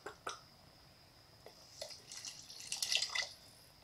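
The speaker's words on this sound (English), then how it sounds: "So I'm going to put some water in here." Water being poured into a cooking pot while preparing beef stew, heard as soft splashing and trickling that starts with a few drips and builds toward the end, close and fairly quiet.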